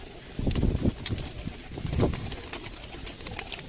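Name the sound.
pigeons at a pigeon loft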